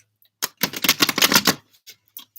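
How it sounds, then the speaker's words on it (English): Tarot cards being shuffled by hand, a quick close riffle of crisp papery flutters lasting about a second, followed by a few light isolated taps and card slides. "Let's get a good shuffling for you, Taurus."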